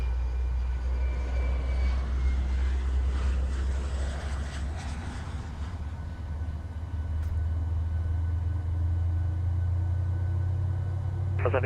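A PMDG 737-800 jet in Microsoft Flight Simulator settles to a stable idle after engine start, giving a continuous low rumble with a faint high whine that holds steady throughout.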